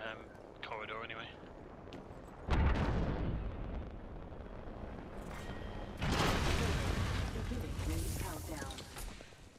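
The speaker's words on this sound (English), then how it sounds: "keep an eye out on artillery" Artillery fire and explosions in a battle royale video game, heavy booming blasts striking at intervals with rumbling sustain, loud and close, mixed with game noise and voices talking over it.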